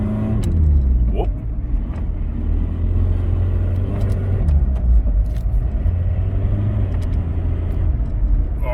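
A car with a swapped sensor hesitates and loses power while driving down a street, its engine rumbling steadily and loudly inside the cabin with uneven surges and occasional clicks.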